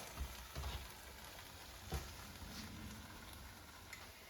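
Chinese eggplant in garlic sauce sizzles and fries in a pan, a soft continuous hiss with a few faint stirring knocks, quiet and close.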